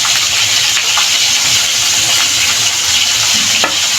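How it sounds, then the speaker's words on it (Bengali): Hilsa fish pieces frying lightly in hot oil in a pan, a steady close sizzle and hiss running throughout with faint stirring clicks, no voices. "তো মাছটা বেশি ভাজবো না, মানে হালকা হালকা ভাজবো।"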